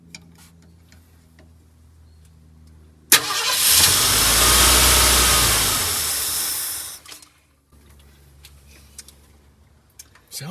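A 1972 Ford F100 pickup engine runs after its first start in years. A steady low idle swells into a loud, roaring rev for about four seconds, then drops back to a quieter rumble.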